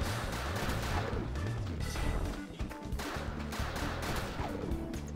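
Rapid, crashing gunshots fire in quick succession during the Final Fantasy X-2 Gunner minigame, loud and continuous over a busy musical backdrop.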